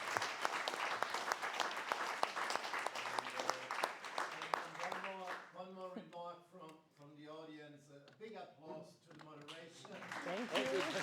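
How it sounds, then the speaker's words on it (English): Conference audience applauding after a talk, a dense burst of clapping that fades as a speaker's voice comes in over the tail of it. "let's clap for you."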